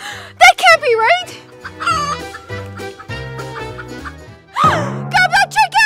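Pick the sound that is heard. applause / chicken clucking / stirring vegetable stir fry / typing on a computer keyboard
chicken clucking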